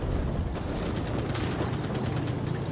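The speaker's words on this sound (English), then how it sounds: "that's artillery, isn't it? No, that's a bomb." A bomb goes off in the WWII shooter Enlisted, a dense, sustained roar of blast and gunfire rumbling loud and continuous for the whole stretch, with no voices over it.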